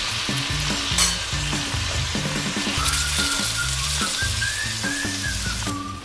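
Shrimp linguine pasta stirred in a hot pan sizzles and fries steadily, with close scraping stir strokes over a constant crackle while soft background music plays throughout.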